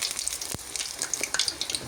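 Meat-filled pirozhki frying in hot oil give off a close, crackling sizzle with scattered pops and spits and one brief sharp burst.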